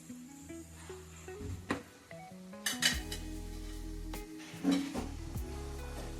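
Urad vadas frying in a pan are turned over with a utensil, producing several close metallic clinks and scrapes against the pan over a low background sizzle.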